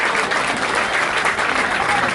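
An audience at a launch evening on avenue Foch in Lyon applauds loudly and continuously, a dense, close wash of clapping that fills the whole stretch.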